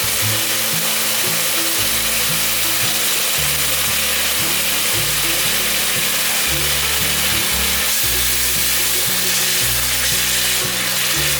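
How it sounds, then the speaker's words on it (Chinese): Winter melon juice poured into stir-fried seasonings in a hot pan for a vegan winter melon and mushroom dish, a loud steady sizzle running throughout over a rhythmic stepped background tone. "调味料炒匀后，把冬瓜的水放进来。"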